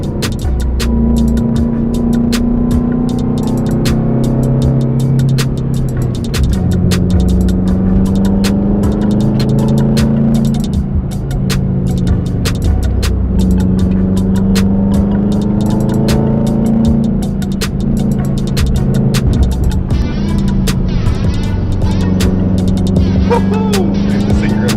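A rally car being driven for a lap up the road, its engine droning loudly and steadily with gear-change shifts in pitch and sharp mechanical ticks, heard from inside the car throughout.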